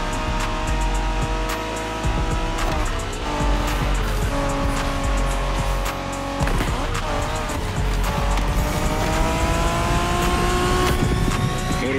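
Japanese street racing cars in The Crew Motorfest, with engines roaring and revving continuously, tires squealing through turns and layered game engine tones throughout, loud and sustained.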